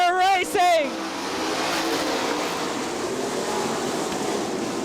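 Sprint cars roar around a dirt oval at Crystal Motor Speedway, a loud steady engine drone filling the air after a brief burst of voice at the start.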